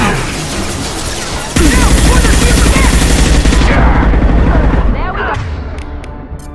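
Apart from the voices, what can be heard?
gunfire in the video game Mass Effect 2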